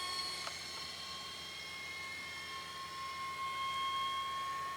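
Tower Hobbies Beaver RC floatplane, electric-powered on a Turnigy 3S 2200 pack, flying at about 60% throttle with a steady whine of motor and propeller, holding a constant distance throughout.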